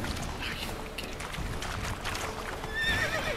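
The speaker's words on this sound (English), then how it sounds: "Darn horse, why can't you just swim?" Hooves clip-clop along with a horse's whinny and some splashing at water's edge in the video game Witcher 3: Wild Hunt, fairly quiet and steady, with no one speaking.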